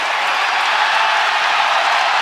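A basketball arena crowd gives a dense, steady roar of applause and noise, loud and unbroken, with faint talk beneath it.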